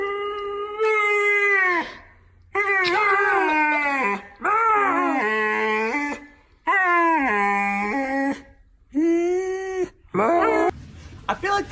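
Dog howling in a series of long, loud, tonal wails with brief pauses between them, each rising and falling, close and clear with nothing else over it.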